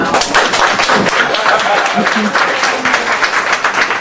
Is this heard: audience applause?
yes